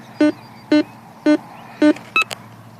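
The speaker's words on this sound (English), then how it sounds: "if I go over it with the detector" Metal detector signal tone sounding over a freshly dug-up gold-coloured object reading as zinc: four evenly spaced, loud electronic beeps followed by a short, brighter warbling chirp, clear and close with no talk.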